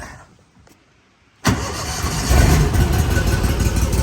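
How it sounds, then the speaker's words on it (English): An Argo amphibious ATV engine cranks and catches after a quiet start, then settles into a steady, loud idle rumble close by. "We're driving the Argo, if I can get inside of it."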